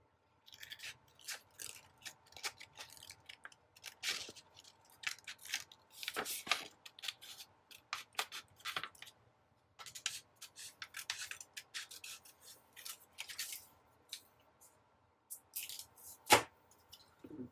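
Scissors snip out a paper flower for a planner kit, with quiet, intermittent cutting and rustling sounds close by.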